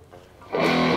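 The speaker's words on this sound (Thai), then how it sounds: "นี่ก็คือเสียงเกนนะครับหรือเสียงไดนะครับ" Electric guitar played through a KAZUKI KA-40 amp with the boost distortion on: after a quiet moment, a single loud, gritty distorted strum rings out halfway through and sustains to the end.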